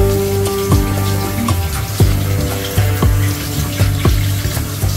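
Water pours and splashes into a pot of cooking food during a home-cooked Filipino dinner, a continuous close trickle with soft bubbling and clinking underneath.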